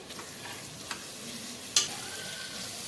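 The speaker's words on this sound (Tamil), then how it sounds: "இஞ்சி பூண்டு பேஸ்ட் போட்டுக்கோங்க. அதையும் நல்லா வதக்கிக்கோங்க." Ginger garlic paste is sautéed in a pan for vegetable biryani, giving a faint, low sizzle with soft stirring scrapes and one brief sharp clink of the spoon.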